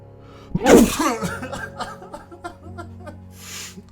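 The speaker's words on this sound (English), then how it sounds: "I really had to sneeze" A single sharp sneeze bursts out near the mic, followed by breathy snickering and soft chuckles that fade out.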